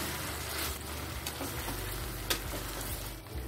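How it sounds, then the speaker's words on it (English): Chicken sautéing in a pan with turmeric, Kashmiri red chili powder and garam masala for haleem gives a soft steady sizzle with a few faint stirring scrapes, close but fairly quiet and without voices. "Mix well and saute."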